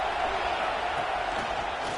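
A stadium crowd in a college football video game roars steadily on a third-down red zone play, a dense, continuous wash of cheering at moderate loudness with no clear voices on top.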